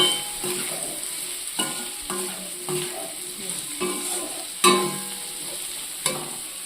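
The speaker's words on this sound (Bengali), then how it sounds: "অলমোস্ট আলু ভাজা হয়ে গেছে" Potatoes frying with salt and turmeric in a pan, a steady sizzle broken by repeated scraping and stirring clinks of a spatula, close and fairly quiet.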